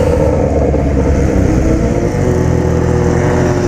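A Yamaha XJ6 motorcycle fitted with a new drive chain and sprocket kit runs close by with a loud, steady engine drone, a sustained rev with no distinct bursts, with no voices.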